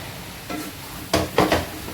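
A spoon scrapes through soya chunks and biryani masala in a pot in a few short, separate strokes, with a faint sizzle underneath and no talking.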